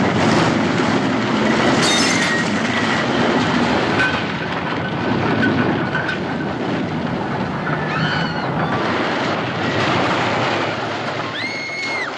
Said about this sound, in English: The train slams into the buffer and plows through the station